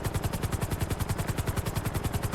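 A helicopter in the video game FiveM, with steady rapid rotor chopping close and loud throughout, alone.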